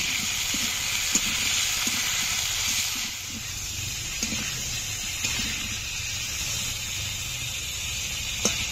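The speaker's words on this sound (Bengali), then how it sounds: "স্বাদ মতো লবণ, অল্প একটু হলুদ গুঁড়ো, এবার ভালো করে ভেজে নেব।" Cauliflower frying in a pan with salt and turmeric, a steady close sizzle and hiss with occasional stirring scrapes and soft taps, no talking.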